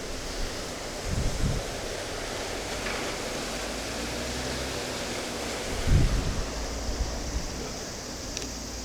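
Water waves wash outdoors in Japan, a soft continuous rush with a couple of louder surges, mixed with wind noise on the microphone.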